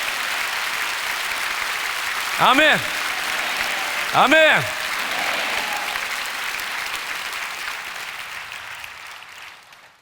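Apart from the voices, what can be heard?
congregation applause in church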